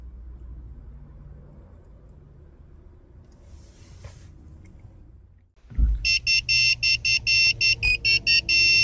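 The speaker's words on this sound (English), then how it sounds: "After 10 minutes, you'll hear a beeping tone, which means that the key chip programming was successful." A key programming tool plugged into a 2013-2016 Ford C-Max emits a rapid series of loud, evenly spaced electronic beeps after a stretch of low background hum and a brief thump.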